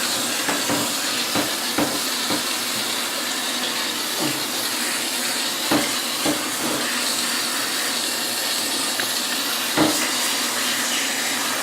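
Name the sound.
water spraying to rinse a cat during a bath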